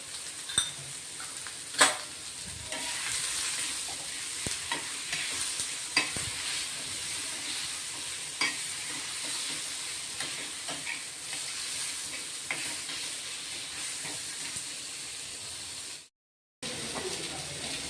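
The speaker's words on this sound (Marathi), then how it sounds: "तेल गरम झालंय, थोडेसे जिरे टाकून घेतलेत आपण" Steady sizzling of cumin seeds frying in hot oil in a wok, with occasional sharp clicks and light stirring taps throughout, briefly cutting out near the end.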